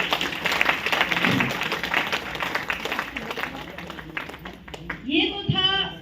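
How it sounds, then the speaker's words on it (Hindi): Audience applause at a Hindi-language DXN business success seminar, a steady wash of clapping through the whole stretch with voices heard over it toward the end. "एस रंजन सर के लिए भी जोरदार ताली।"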